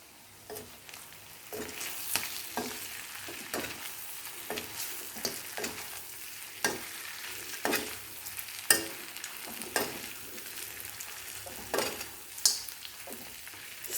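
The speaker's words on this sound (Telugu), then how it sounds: "తిప్పుకుంటూ సిమ్లోనే పెట్టుకుని వేయించుకోండి." Country chicken fries with fresh curry leaves in a pan, a steady close sizzle broken by repeated scraping stirs of a spoon, alone with no voices.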